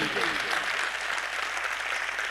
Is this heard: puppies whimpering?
no